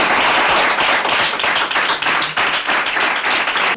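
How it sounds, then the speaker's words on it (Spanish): Studio audience on a Spanish regional live TV program breaking into sustained, dense applause and clapping that fills the whole stretch evenly and loudly, with no talk over it. "Vamos a darle un aplauso,"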